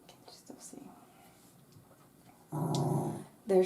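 Low dog growling from a small dog that has just been towel dried after a face wash, with a louder rumbling burst near the end and quiet indoor handling sounds earlier.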